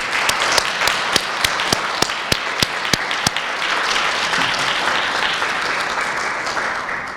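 An audience at a recognition tea applauds parents and grandparents, a few sharp single claps at first, then sustained, even applause from a crowd that gradually softens.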